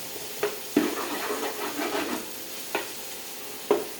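Pancit bihon ingredients frying in a pan with salt, giving a soft steady sizzle and hiss broken by a few sharp stirring clacks of a utensil, close by with no talk.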